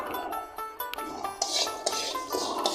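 A metal pan of ghee-fried rice with cardamom is lifted off the stove, giving a series of clinks, scrapes and light knocks of metal against metal, close up and irregular.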